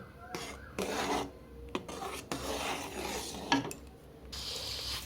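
A spoon stirs semolina in a pan with repeated scraping and rasping strokes at uneven intervals, close and moderately loud, with no talking.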